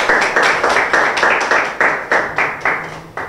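Audience applause for a rapper at a freestyle battle event, a run of rhythmic, fairly loud claps in regular bursts, close and uneven.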